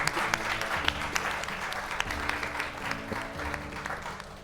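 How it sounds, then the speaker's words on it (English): An audience at the close of a panel conversation applauds warmly, a continuous patter of many hands over a low steady hum, lasting several seconds at even strength. "Well, a round of applause."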